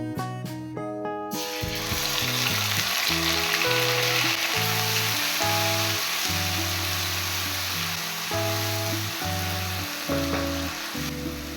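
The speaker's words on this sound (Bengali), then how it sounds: "এবার ফোড়নগুলোকে আমি 20 সেকেন্ড ভেজে নিয়ে দিয়ে দেব পেঁয়াজ বাটা।" Whole spices such as black peppercorns and cloves, then onion paste, sizzle and fry in hot oil for a Kolkata-style chicken rezala, with a loud, steady crackle throughout and no talking, under some faint background music.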